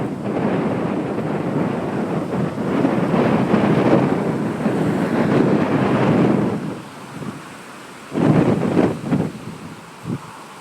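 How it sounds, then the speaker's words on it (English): Strong high winds roar and buffet steadily for several seconds, with heavy gusts hitting close to the microphone before easing into a lighter rush and a few final blasts. "the wind is all over the place."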